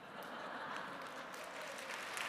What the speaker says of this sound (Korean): 박수 칠 타이밍이 아닌데?